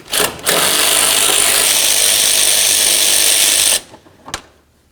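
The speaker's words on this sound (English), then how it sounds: "I'm going to remove both of my mounting bolts up along the top right here" A power tool whirs steadily for about three seconds while removing the fan shroud mounting bolts on a 2007 Toyota Tundra, then stops, followed by a brief clink.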